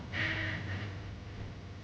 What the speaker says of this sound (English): We're sniffing.